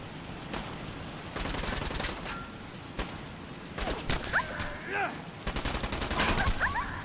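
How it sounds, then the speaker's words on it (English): Gunfire in the video game Fallout 4, bursts of rapid automatic shots and scattered single cracks, some distant and some closer, mixed with whooshing and laser-like zaps in game action. "Are they firing at me?"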